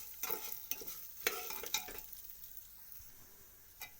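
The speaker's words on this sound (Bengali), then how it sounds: "এটাকে একটু আমি ভেজে নেব।" A small amount of moong dal fries in a little white oil and is stirred, with a soft, steady sizzle and a few scraping strokes of the spoon early on, then quieter frying.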